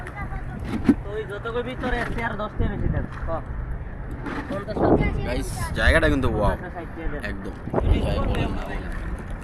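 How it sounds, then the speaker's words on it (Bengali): A boat ride across the water at Bichanakandi zero point in Sylhet, with steady wind buffeting the microphone and a low rumble beneath almost constant close talking and exclaiming. "আমরা নৌকা দিয়ে যাচ্ছি"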